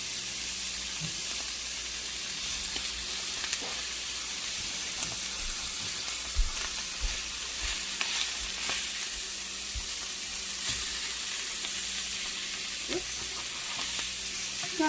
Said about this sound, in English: So, this is the flounder that I'm cooking.